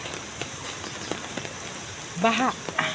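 Steady rain during a prolonged downpour with flooding, a continuous hiss with scattered drop ticks, and a brief voice breaking in near the end.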